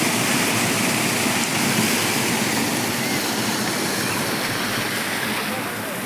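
Water flowing under a bridge rushes loudly and steadily, a dense unbroken roar close by that does not let up.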